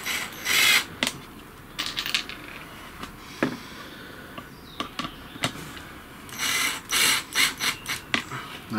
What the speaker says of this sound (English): I think I'm going to have to just start the first couple of screws on it